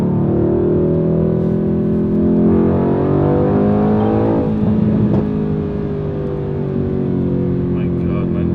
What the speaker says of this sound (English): Put it in race mode now, so we'll have a little bit more fun. And the exhaust is tiny little bit louder.